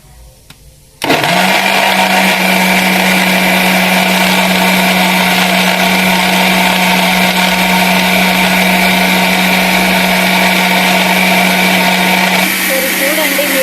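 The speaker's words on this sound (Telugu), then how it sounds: "మళ్ళీ మిక్సర్ పట్టుకుందాం మనం" A mixer grinder churns cream to make ghee, starting abruptly after a second of quiet and running as a loud, steady motor whine with a strong hum for the rest of the clip, then shifting pitch briefly near the end.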